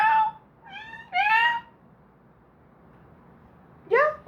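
A cat meows three times close by, drawn-out, whiny calls in quick succession, then a quiet pause before another loud meow at the end.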